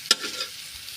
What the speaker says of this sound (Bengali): দেখেন হয়ে যাচ্ছে কিন্তু সুন্দর করে পাকিস্তানি ডিমের ভাজি